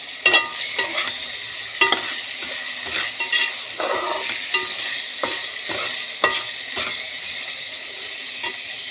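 Ginger paste and tomato frying for a fish curry, a rhythmic series of sharp spoon scrapes and clacks against the pan over a soft sizzle, close and fairly loud, no voices.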